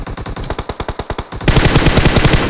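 Rapid automatic gunfire fills a battle video game: a quick rhythmic burst of punchy shots, then a louder, denser stretch of overlapping fire, close and loud with no speech.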